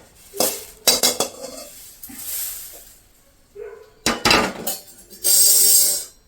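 Metal utensil scraping and clinking against a pan while roasted curry leaves are scooped out during homemade coriander powder preparation, a series of sharp close clatters and scrapes with pauses between them.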